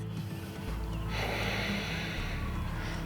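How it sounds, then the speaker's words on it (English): Deep, steady breathing during a seated yoga twist, close and soft, one long breath swelling into a breathy rush with no talking. "Breathe deeply for one more breath"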